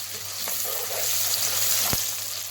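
Garlic added to browned onions sizzles steadily in a hot pan while cooking chicken biryani, a close, continuous frying hiss with a couple of brief stirring knocks.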